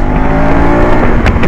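A 2025 KTM Adventure 390 motorcycle accelerating at full throttle, with a loud, close, continuous engine roar and rising revs that stay dense throughout.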